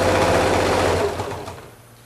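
Sewing machine stitching a seam along a chalk line on a quilt casing, a steady loud mechanical whir that runs continuously, then slows and fades toward the end.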